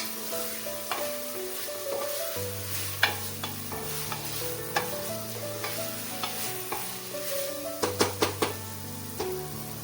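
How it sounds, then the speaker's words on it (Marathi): Toor and masoor dal are sauteed and stirred in a pan, with a soft sizzle under repeated scraping and clinking strokes of a spoon. A quick burst of taps comes near the end, and no voices are heard. "तुरीची डाळ आहे आणि मसूर डाळ. परतून घेऊया त्याला आपण."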